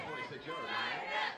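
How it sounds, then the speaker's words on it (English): An excited crowd at a night high school football game roars and cheers steadily throughout, a dense wash of many voices close and loud with no pause. "you can hear this crowd. It's excited tonight"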